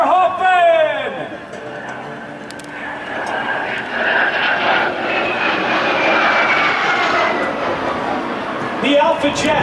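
An Alpha Jet with twin Turbomeca Larzac turbofan engines flies past at an air show, its jet roar swelling as it passes and then fading. An announcer talks over it throughout.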